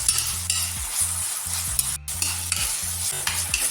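Chili, garlic and ginger paste with tomato frying in a pan, a continuous bright sizzle broken by repeated scraping stirs and a low rhythmic hum beneath, no voices.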